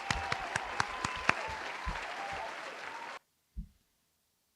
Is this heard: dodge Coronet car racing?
no